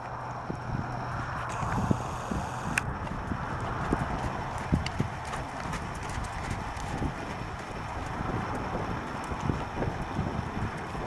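Steady clip-clop of a horse's hooves in a canter during flat work schooling in an arena, a continuous rhythmic beat with light wind noise over the microphone and no talking.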